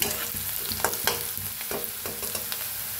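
Onion fries in a pan with a constant crackling sizzle and repeated scraping stirs of a spatula at an uneven rhythm, close and fairly loud. No one speaks.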